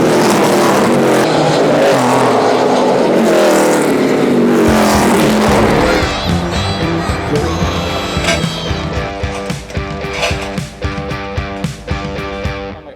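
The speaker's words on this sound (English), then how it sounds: "you're seeing these cars spit fire, tires are kicking up, and they're sliding around these corners" NASCAR Xfinity race cars roar around the Portland road course, loud engines revving and shifting as they pass close by, the howl rising and falling with downshifts and acceleration out of the corners.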